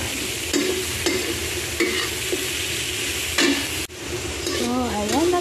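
Bean sprouts sauté with luncheon meat in a pan, a steady close sizzle with repeated scraping stirs of a utensil, and a brief voice near the end.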